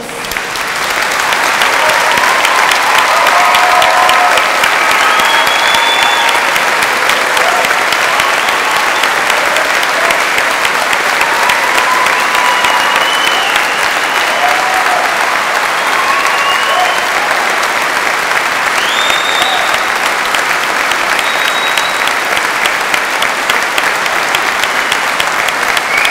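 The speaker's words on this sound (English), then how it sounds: "everyone here to join in giving you the biggest round of applause" Loud, sustained applause from a large crowd honouring graduates at a Manchester degree ceremony, a dense unbroken wash of clapping with faint cheers and whistles on top.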